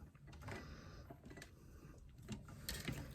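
Hand-cranked sewing machine finishing a last stitch, a soft mechanical whirring and clicking that runs in short uneven bursts, close but quiet, with no talking.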